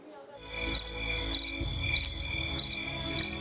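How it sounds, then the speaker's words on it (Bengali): Crickets chirp in a village at night, their bright pulsing trills repeating about every half second over a low, steady background rumble. "ঝিঝির ডাক থেকে মশার গুনগুন পর্যন্ত"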